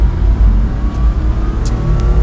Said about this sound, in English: This truck turns a very tight turn radius.